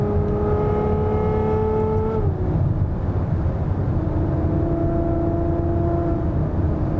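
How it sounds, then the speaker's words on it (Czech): Ferrari F12 Berlinetta 6.3 V12 downshifting, then pulling hard, a steady engine tone dropping in pitch as the gear changes and settling into a strong, close drone with a whirring edge. "Podřadím si na vyšší otáčky a auto okamžitě vystřelí dopředu."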